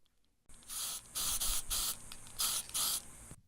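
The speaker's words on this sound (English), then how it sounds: "That third sound is actually the spraying sound from the paint can." Aerosol spray paint can hissing in short bursts, six or so sharp sprays of varied length with brief gaps, close and clear with no talk.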